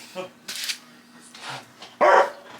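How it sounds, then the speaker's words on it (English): A dog gives a few short, close barks indoors, with people talking nearby in between. "No one wants to hear the barks."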